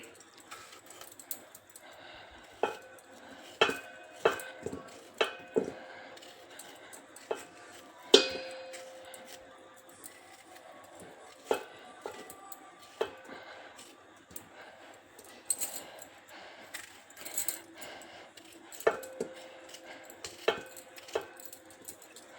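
A kitchen knife slices tomatoes into chunks for pickle, giving a long run of sharp, irregular taps and clacks on a cutting board, close and fairly quiet, with brief pauses between cuts.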